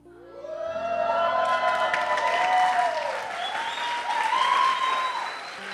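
A church congregation bursts into applause and cheering, with voices rising and swooping over the clapping, which swells and then eases toward the end.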